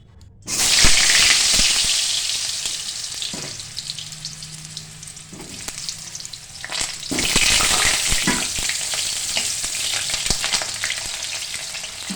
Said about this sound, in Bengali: তেল দিয়ে দিলাম আলু ভাজার জন্য।